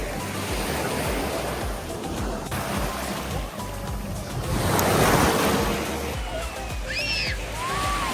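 Ocean waves breaking on a white-sand beach at a resort, a continuous wash of surf with a swell of louder crashing midway, wind noise against the microphone.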